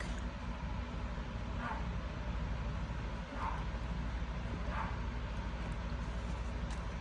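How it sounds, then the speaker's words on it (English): A few distant dog barks ring out at intervals over a steady low background hum. "You're gonna have to excuse the dogs"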